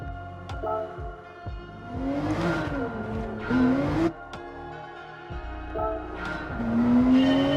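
A Porsche 991 GT3 RS in Gran Turismo 7 at the Nordschleife revs and shifts repeatedly, pitch climbing then dropping at each gear change, with brief hesitations, loud and continuous.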